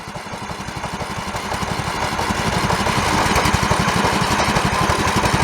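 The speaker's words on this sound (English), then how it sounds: "You race it against your other lawnmower." A Chestona 500 lawnmower engine runs steadily nearby with a rapid, even chugging pulse, loud and continuous and slowly growing louder.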